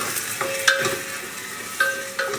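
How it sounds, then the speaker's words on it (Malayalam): Ginger and garlic paste with chopped green chilies fries in a pan for a vegetable salna, giving a steady close sizzle broken by a few sharper stirring scrapes, with no voices. "ഇഞ്ചി വെളുത്തുള്ളി നല്ലപോലെ മുരിയണം അപ്പൊ ഇഞ്ചി വെളുത്തുള്ളിയൊക്കെ നല്ലപോലെ മൂത്തിട്ടുണ്ട്"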